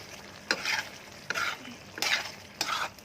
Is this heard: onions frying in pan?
yes